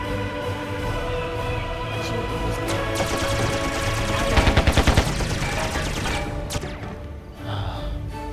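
Rapid bursts of gunfire in the vehicle combat game Carrier Command Gaea Mission, loud and sustained, peaking in a dense rattling volley midway, with a voice talking over parts of it.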